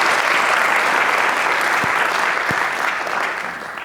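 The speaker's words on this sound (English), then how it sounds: "So, quick round of applause." An evening presentation audience claps steadily for a few seconds, a dense wash of applause that tapers off slightly at the end.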